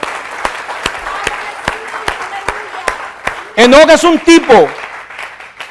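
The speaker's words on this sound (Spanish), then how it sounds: "Dele un aplauso al Rey" Congregation applause at a church service, steady crowd clapping with sharp claps standing out, loud and close, with someone speaking over it and a brief raised voice near the end.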